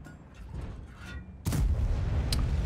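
A tank cannon in World of Tanks fires in a forest setting, a sudden heavy boom midway through that follows quieter rumbling and stays loud, with a sharp crack shortly after.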